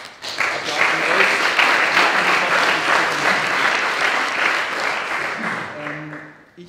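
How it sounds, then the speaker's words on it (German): An audience claps through the opening of a conference, dense sustained applause that swells quickly, holds loud and even for several seconds, then tapers off, with a few voices surfacing at the end. "Also jetzt schon mal Applaus an euch."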